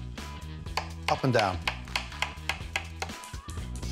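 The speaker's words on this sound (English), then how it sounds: "start the sauce by slicing mushrooms" A knife slices mushrooms rapidly against a board in a steady up-and-down rhythm, about a dozen crisp strikes, with a voice speaking briefly and music underneath.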